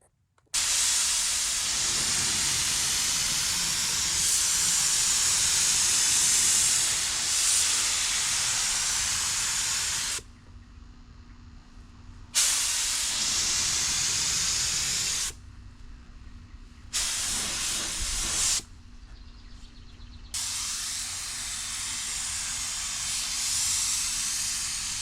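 A spray gun hisses out custom metallic automotive paint in long steady bursts, broken by a few short pauses between passes; close and loud, with no talking.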